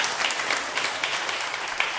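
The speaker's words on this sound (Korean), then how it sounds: "박수 한번 주세요" A seated audience bursts into steady applause at a Korean lecture class, dense clapping running the full two seconds at even strength with no voices.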